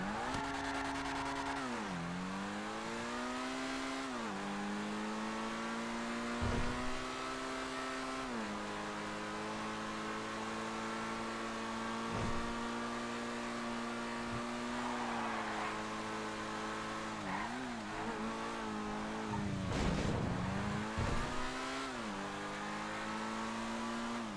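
The RE7P race car in a video game drives with a steady, loud engine drone, its pitch dipping and climbing repeatedly as it shifts and revs, with occasional sharp transients and no talking.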